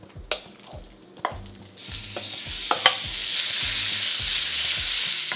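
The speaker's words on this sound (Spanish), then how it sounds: "En el mismo cochambre le ponemos un poco más de aceite. Y seguimos con el pollo." Chicken pieces frying in oil for jambalaya, with a loud crackling sizzle that swells as more food goes into the pan, and repeated scraping and stirring strokes of a utensil.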